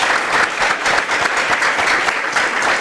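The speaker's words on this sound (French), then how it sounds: "Applaudissez pour lui." A studio audience at a Congolese television show claps in dense, continuous applause that holds steady throughout without a break.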